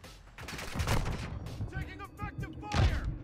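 Gunfire in MW2, including Intervention sniper rifle shots, comes as several loud sharp bursts mixed with other shots and game effects, while someone talks over it.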